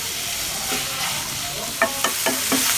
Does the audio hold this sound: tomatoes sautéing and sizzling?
yes